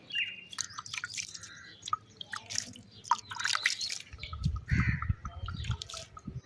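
Water sprinkled by hand onto soil at the edge of a garden bed in a village yard patters and drips in short bursts, with birds chirping nearby and a heavier splash toward the end.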